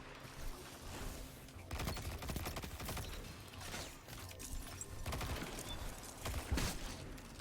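Sniper rifle and other gunfire in a multiplayer shooter match, sharp cracks and bursts scattered through a busy, dense battle soundscape with steady background game noise.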